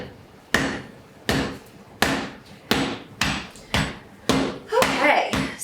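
A rolling pin beats a block of cold butter for puff pastry in a steady series of about eight loud, dull thuds, roughly one every second, with no talk.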